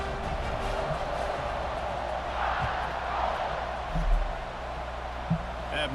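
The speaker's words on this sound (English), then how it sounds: "this crowd is buzzing after that last score" A stadium crowd in an American football video game buzzes after a touchdown, a steady broad roar running under a commentator's voice.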